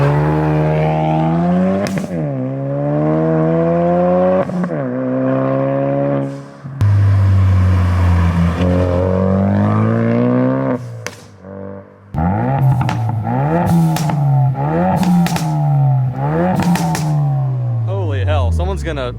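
A Ford Focus RS fitted with an aftermarket exhaust accelerates hard on back roads, its engine note sweeping up through repeated loud, close revs with brief gear-change dips and crackles between pulls.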